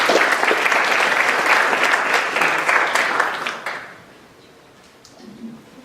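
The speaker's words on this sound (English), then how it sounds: "let's give a round of applause for Bill McKibben" An audience at a Kent State climate event applauds Bill McKibben, with dense close clapping that fades out after about four seconds into quiet room tone.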